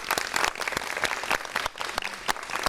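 A crowd at an education gathering applauds in honour of literacy teachers, giving sustained, dense clapping from many hands that holds at a steady level throughout the short burst.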